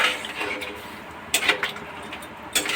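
A curry is stirred in a pan while cooking, with soft scraping and a few sharp metallic clinks of the spoon against the pan over a quiet background hiss.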